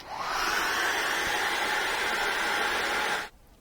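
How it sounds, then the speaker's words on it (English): A hair dryer blows on wet acrylic paint in a steady, loud whoosh held for about three seconds before cutting off abruptly, with no talking. "So use the hairdryer, normally about 6 to 12 inches away"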